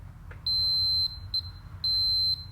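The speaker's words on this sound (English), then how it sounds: "So that beep basically tells us that the wire is not broken anywhere." A continuity tester checks a car's fuel pump relay wire, giving three sharp high beeps, the first two long and the last short, each clear against a low background hum.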